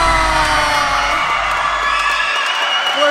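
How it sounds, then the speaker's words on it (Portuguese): A volleyball crowd roars, cheering and shouting loudly and continuously during a close match point, with whoops and yells rising above the dense wall of noise. "A torcida tá doida aqui"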